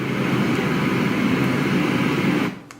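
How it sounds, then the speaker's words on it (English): An Etekcity white noise machine plays its heavier waterfall setting, a loud, steady rushing wash of water noise that holds evenly and then cuts off near the end. "A heavier waterfall."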